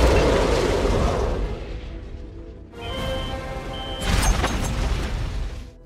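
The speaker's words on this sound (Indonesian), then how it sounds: "Sementara helikopter itu meledak" A helicopter blows up in a film scene, a heavy booming explosion with a rolling rumble that fades, then further bursts and crashing debris as music plays.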